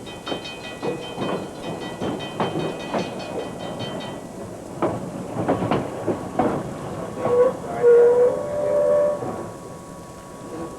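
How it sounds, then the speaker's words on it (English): Freight trains move around a rail yard, with rhythmic rumbling, clanking and clicking of railcars and a tonal horn-like sound near the end. "we'll take a peek at some freights as they move around in the train yard"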